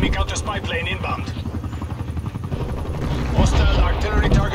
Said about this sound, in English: Enemy attack helicopter above.